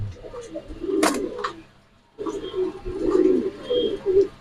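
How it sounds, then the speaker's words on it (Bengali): Pigeons at a pigeon farm coo in low, rolling bursts that come and go, fairly close, with a brief sharper flutter near the start and a short quiet gap before the cooing resumes. "দেখাবো হাই ফ্লার কবুতর, বুদাপেস্ট একটা পেয়ার"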